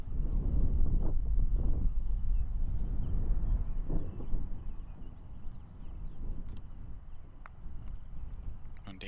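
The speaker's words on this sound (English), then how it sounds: "You got that right to left headwind" Wind buffets the microphone on an outdoor disc golf course, a steady low rumble with gusting swells throughout and faint distant sounds over it.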